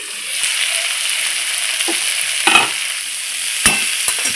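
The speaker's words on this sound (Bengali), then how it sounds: "হালকা ভাজা ভাজা হয়ে গেছে" Jackfruit seeds and vegetables frying in a pan for a vegetarian curry, a steady close sizzle with a few sharp scraping stirs of a spatula, no talking.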